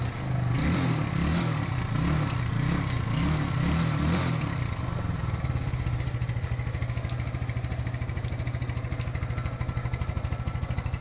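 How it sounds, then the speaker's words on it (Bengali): A TVS Apache RTR 150cc motorcycle engine runs loud and close. Throbbing throttle pulses fill the first half, then it settles into a steady, even idle. "একটু আপনাদের সুবিধার ক্ষেত্রে একটু স্টার্টের সাউন্ডটা শোনাবো।"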